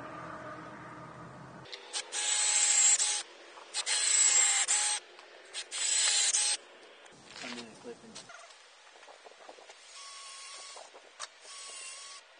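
Power drill boring holes into a log for shiitake mushroom dowels, three loud bursts of high whining drilling in the first half, then quieter scraping and handling noises with softer drill runs near the end.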